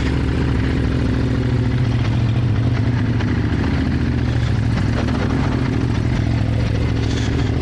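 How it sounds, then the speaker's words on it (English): A Ducati Monster 950 motorcycle engine runs steadily and loudly while riding, a deep rumbling drone with a rough, throbbing texture and no pauses throughout. "I love the sound of the Ducati Monster"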